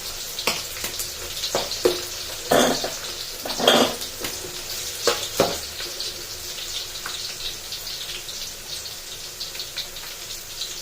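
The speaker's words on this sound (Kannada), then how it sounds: "ಮೀಡಿಯಮಲ್ಲಿ ಇಟ್ಕೊಂಡು ಈ ಬೆಳ್ಳುಳ್ಳಿನ ಚೆನ್ನಾಗಿ ಎಣ್ಣೆಯಲ್ಲಿ ಕರುಕುರು ಅನ್ನೋ ಹಾಗೆ ಬಾಡಿಸ್ತಾರೆ" Garlic frying in oil in a pan over a medium flame, a steady crackling sizzle with louder bursts of spattering and stirring scrapes, close and with no one talking.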